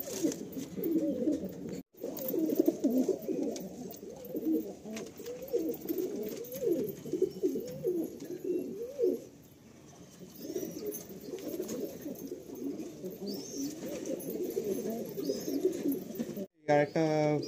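Madrasi pigeons coo in a loft, with repeated soft throaty calls overlapping near and at medium distance, and a brief gap partway through.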